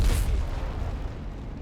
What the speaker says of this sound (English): High explosive shells, they're slamming into them